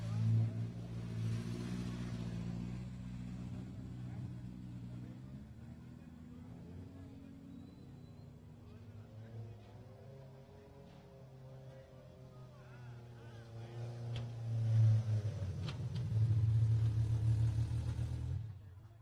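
Off-road race car engine rumbling at the Baja 400 finish in Ensenada, a low steady drone that swells and revs louder near the end while an announcer talks over it.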